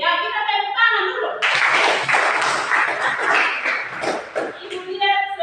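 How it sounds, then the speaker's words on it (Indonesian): A group claps together in a brief burst of applause lasting a few seconds, with someone speaking before and after. "kita tepuk tangan dulu"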